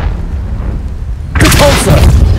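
Confringo blasting curse explosion in the video game Hogwarts Legacy, a sudden loud burst erupting after a quieter stretch and rumbling on for about a second.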